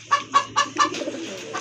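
Giribaz pigeons give four evenly spaced, close, loud coos in quick rhythm, then a softer trailing murmur and one faint final note.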